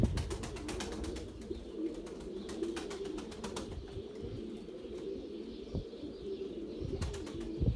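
Domestic pigeons at a loft cooing and stirring, a steady low rumble of coos with scattered wing flutters and clicks throughout, close and fairly loud with no talk.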